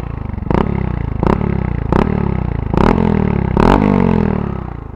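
A Honda Grom motorcycle with an aftermarket full exhaust runs close and loud, its steady rapid engine pulse rising in pitch with quick throttle blips about every second, alone without talk.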